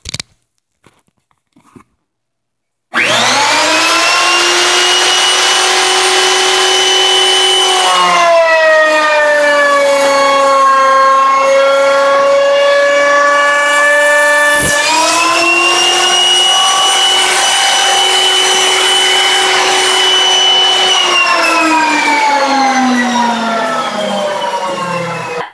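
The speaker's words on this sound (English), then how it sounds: "we ran the router bit on the Garnica plywood" A router fitted with a straight bit cuts through Garnica plywood, a loud sustained whine with a harmonic pitch that dips and rises as the bit is loaded, running steadily for over twenty seconds after a quiet start.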